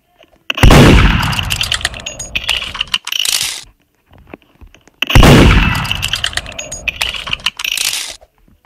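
Video game gunfire in two loud bursts, each a sharp blast followed by rattling metallic clatter and fading echoes, separated by a short quiet gap.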